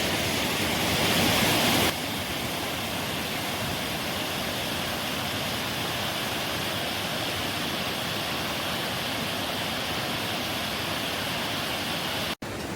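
A river stream flowing beneath a suspension bridge in Sri Lanka, a steady broadband rush of water, close and continuous, with a brief thump near the end.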